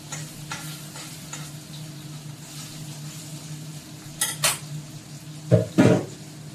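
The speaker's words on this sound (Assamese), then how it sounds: "আৰু এখন সৰুকৈ কুচিয়া মাছখিনি ভাজি দিম" Kuchia eel pieces frying in a kadai, a low continuous sizzle broken near the end by a few louder utensil scrapes and clanks against the pan, with no talking.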